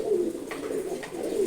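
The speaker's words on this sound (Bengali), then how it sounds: "মাশাল্লাহ প্রায় 9 জাতের কবুতর আছে এখানে" Pigeons of several breeds coo steadily in a loft, a dense, continuous low warbling from many birds close by, with no voices.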